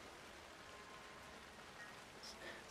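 Rain falls in the video game Alan Wake II as a very faint, steady hiss of drops on surfaces, with a couple of tiny higher ticks near the end.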